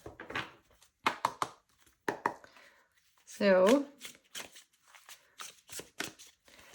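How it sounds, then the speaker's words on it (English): Brief bursts of tarot cards being shuffled, one longer riffle in the middle, with a person talking in between the quick papery flurries. "maybe I just do quick shuffle"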